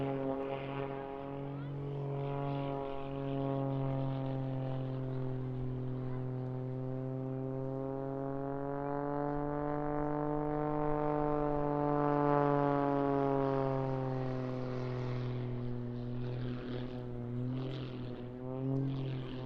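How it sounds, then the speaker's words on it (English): Aerobatic propeller aircraft at an airshow, tumbling through its own smoke: a sustained droning engine whose pitch rises and falls smoothly as it maneuvers, moderately distant and continuous throughout. "The aircraft really difficult to control, but it is under control as he lets it tumble back through his own smoke."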